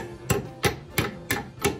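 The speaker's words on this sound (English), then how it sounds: "I'm going to hit it with the hammer and set this guy in there" Five sharp, evenly spaced hammer blows drive a threaded rod into a handrail fitting made from threaded pipe. Each strike is close and loud, with a short ringing decay, and no voices are heard.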